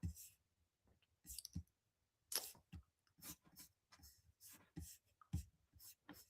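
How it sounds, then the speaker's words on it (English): Fingers tapping on a computer keyboard while typing a search, heard as short irregular bursts of clicks in clusters, fairly close and moderately loud, with quiet gaps between runs of keystrokes and no talk. "I'm typing right now."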